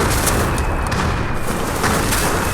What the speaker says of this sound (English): Get the nice sound effect of bombs dropping in the air.